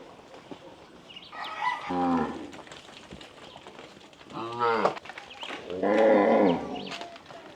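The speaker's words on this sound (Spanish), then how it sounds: "Las vacas vienen." Cattle arriving at a farm in the Dominican countryside near Bonao moo three times, long, loud and close, with quiet gaps between calls and faint birds in the background.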